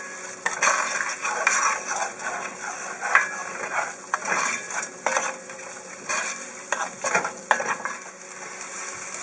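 A spoon stirs salted chicken soup in a pot, making irregular metallic scrapes and clinks against the sides, with a soft sizzle underneath.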